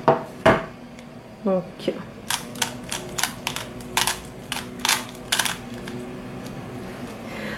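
A pyraminx puzzle being scrambled, its plastic pieces snapping through a rapid series of sharp clicks and clacks, close and fairly loud, with a brief word of speech near the start.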